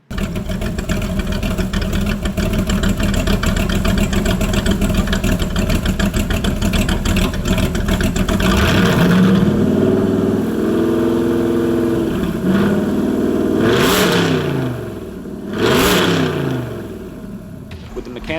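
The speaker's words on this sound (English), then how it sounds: "Now, let's hear what this NS2 camshaft sounds like at idle." A C8 Corvette fitted with an NS2 camshaft, strapped to a dyno, idles with a loud, choppy lope, then snaps through several sharp revs that rise and fall before settling back to idle.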